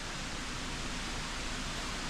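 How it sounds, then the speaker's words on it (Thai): A waterfall at Chan Ta Then in Bang Phra, Chonburi, flows with a steady, dense broadband rush that stays even and continuous throughout, with no voices over it. "มีเสียงน้ำตกไหลตลอด"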